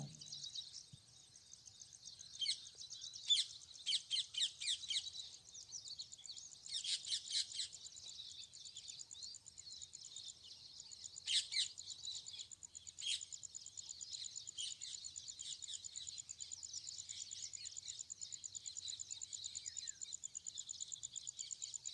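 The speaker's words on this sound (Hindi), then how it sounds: "किलकिलाहट, पक्षियों का सुंदर सा आवाज, उनकी चहचहाट" Birdsong fills the riverside at the Penganga river near Kinwat, Nanded: many chirps, tweets and squawks from different birds overlap in a steady chorus, with a few louder bursts and an insect-like buzz underneath. No talking is heard.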